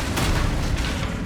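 A Confringo fire spell blast in Hogwarts Legacy lands as a loud, dense boom with two surging bursts and a rumbling tail.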